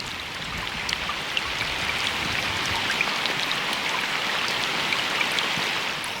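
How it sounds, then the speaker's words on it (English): Heavy rain pours steadily over flooded plains and lakes, a dense, loud hiss of countless drops striking water, constant and unbroken for several seconds with no voices. "as the rainstorms continue, the water rises even higher"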